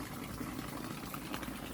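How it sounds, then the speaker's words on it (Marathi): Water gushes steadily from a pipe onto planted trees during a first trial of an irrigation setup, a continuous even rush of flowing water close by with no talk. "किती वेळ पाणी चालते बघू."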